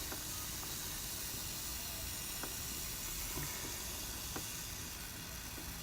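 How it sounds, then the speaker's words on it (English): Muc-Off chain lube hisses steadily from an aerosol can onto a bicycle chain as the wheel spins, a continuous broad spray with faint ticks of the turning drivetrain beneath it. "I'm going to just basically spin the wheel while I'm holding the can and apply the lube into those areas"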